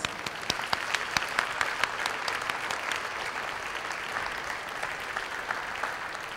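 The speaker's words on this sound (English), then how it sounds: "Give yourselves a round of applause" Sustained applause from an audience at a high school underclass awards ceremony, dense steady clapping that holds at an even level throughout without fading.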